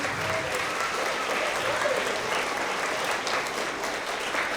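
Steady applause fills a school award assembly as the audience claps for the coaches, a dense, even wash of many hands that holds at a constant level throughout.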